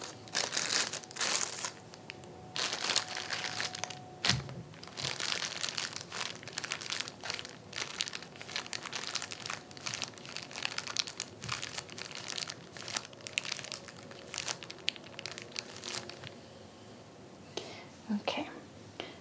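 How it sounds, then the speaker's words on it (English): Plastic crinkling from a squeezed stress-relief toy in a kit, a close, soft rustle coming in bursts of crinkles and crunches with quiet whispering throughout. "You can squeeze him. with the added crinkles."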